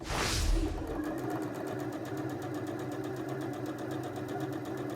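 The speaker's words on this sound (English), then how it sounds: "Now I'm going to sew it all the way around with a 1/4-inch seam allowance." A sewing machine stitches face-wipe fabric and toweling with a quarter-inch seam, running as a steady, close, rapid mechanical whir after a brief rustle at the start, with no voices.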